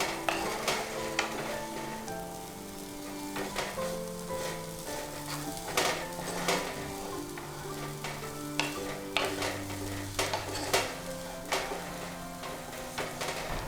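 Garlicky millet rotla crumbles are stirred in a pan over a low flame, with steady soft sizzling and repeated scraping strokes of a spoon against the metal throughout.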